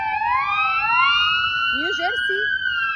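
A police car siren wails in New Jersey, its rising and falling tone sustained and loud throughout, with a voice speaking briefly over it near the end.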